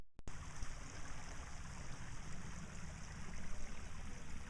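Water rushes strongly along a bisse irrigation channel during spring cleaning, a close, continuous gurgling stream sound that holds steady after a brief click at the start, with no talking.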